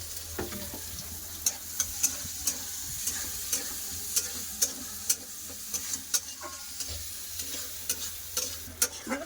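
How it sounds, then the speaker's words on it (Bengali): Sliced onions with black cumin fry in oil in a wok: a constant soft sizzle broken by regular, evenly spaced spatula scrapes and clicks, with no voices. "কড়াতে তেল আছে ফুড়নে দিয়ে দিচ্ছি কালো জিরে কেটে রাখা পেঁয়াজ পেঁয়াজটা ভালো করে ভেজে নেব"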